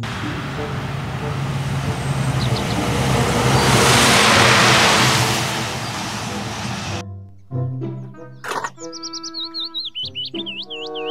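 A toy container truck gives off a loud, steady engine-like roar for about seven seconds, then cuts to bright electronic chirps and warbling toy tones.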